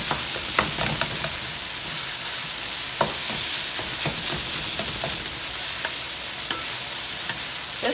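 Small pieces of chicken breast frying in a pan, a dense continuous sizzle broken by repeated scraping taps of a spatula breaking up the meat.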